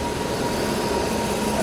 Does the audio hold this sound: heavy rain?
no